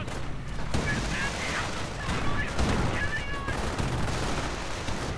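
A Calliope rocket barrage fires in a video game: a rapid, continuous volley of whining rockets and blasts, loud and dense throughout.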